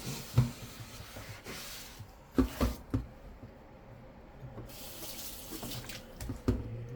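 A pan washed under a running sink tap, with water streaming and splashing alongside intermittent scrubbing and clunks of the pan against the sink, close and moderately quiet, with no talking.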